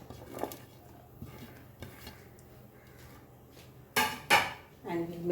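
Paneer cubes tossed with tomatoes, onions and marinade in a bowl, with soft scrapes and light clinks of a utensil against the dish, then a few louder knocks and clatters near the end.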